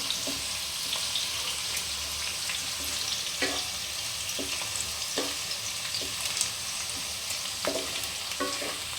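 Steady sizzling of semolina frying in a pan, with occasional scraping clinks from a utensil, close and continuous with no talking.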